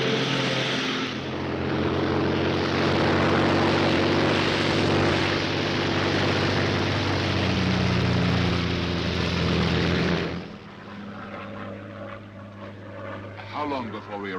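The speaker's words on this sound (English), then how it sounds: "This very moment, a Royal Air Force plane is waiting for us at a secret landing place." A Royal Air Force propeller plane drones steadily in flight, a loud continuous engine hum for about ten seconds that then drops to a lower, quieter cabin rumble.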